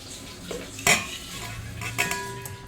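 Boiled potatoes and peas being mashed together in a pot at home for masala puri, with close stirring and scraping, a sharp utensil clatter near one second and a second clink near two seconds.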